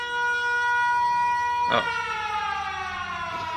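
A low nuclear fuel alarm siren in the video game Factorio wails as a steady, loud tone with many harmonics and keeps sounding throughout, with a brief exclamation partway through.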